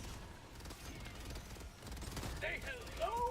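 Heavy mortar fire in Helldivers 2 rumbles as a dense, continuous barrage of booming blasts and crackling gunfire, with some high whistling tones rising near the end.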